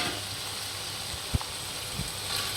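Fried chicken stirred in cooked masala in a pan, a faint low sizzle under steady background hiss, with a single soft thump from the pan or spoon partway through.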